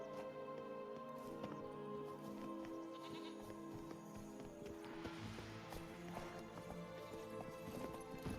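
Roach, a horse in a video game, trots along with steady, soft clip-clop hoofbeats over a continuous ambient game backdrop, with faint animal bleats mixed in.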